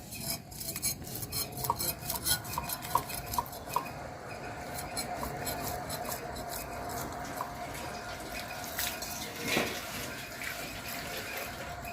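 River bata fish being cut and cleaned for a tomato curry, with steady scraping and knife clinks, small metallic taps and watery handling sounds close by, running on without speech.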